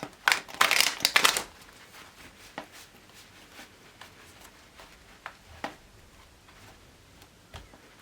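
Tarot cards are shuffled close by in a quick, loud riffle of crisp flutters over about a second, followed by quieter scattered taps and soft card slides against a hushed room.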